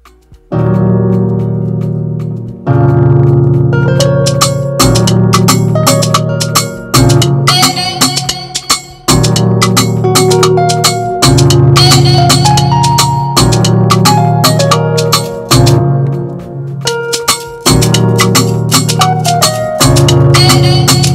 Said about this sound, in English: moved on to another sound, which was a guitar, sounding like this.